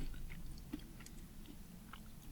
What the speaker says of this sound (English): These have a more of a hard, cracker-like crunch to them.